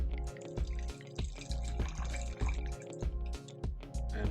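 Moldovan Cabernet Sauvignon wine is poured into a glass, making a close, steady liquid trickle with gurgling pulses that recur about every half second, with no talking.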